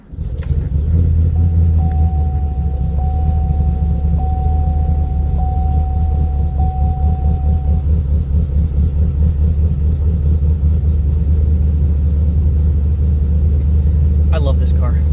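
A car engine cranks and catches, then idles and runs steadily with a loud, deep rumble and occasional revving for the whole stretch, with a person talking over it.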